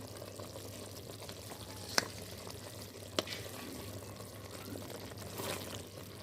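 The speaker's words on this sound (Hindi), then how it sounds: "और साथ साथ जो है ना वो चम्मच चलाया जाएगा" A spoon stirs rice flour into a boiling mixture, with a soft continuous bubbling hiss and two or three brief clinks of metal on the pot, fairly quiet and close.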